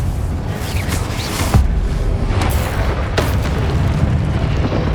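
A Confringo blast spell bursts in Hogwarts Legacy, a deep booming explosion with low rumble under a dense wash of game combat noise, with a sharp impact near the middle.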